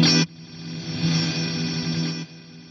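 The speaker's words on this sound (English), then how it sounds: "It's basically just going to get denser and denser and start to sound more like a reverb style effect." A dense multi-tap delay effect produces a smeared tone that swells and sustains like reverb, a short burst up front then a smooth wash for about two seconds before cutting off.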